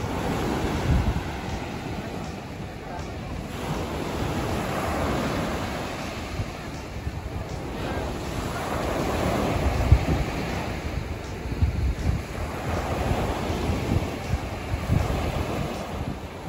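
Ocean waves wash steadily onto the beach at Sipalay on Negros Island, a continuous rolling surf with wind buffeting the microphone throughout.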